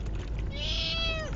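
A single drawn-out meow from a cat aboard a fishing boat, clear and fairly close over a constant low engine rumble, rising then fading after about a second.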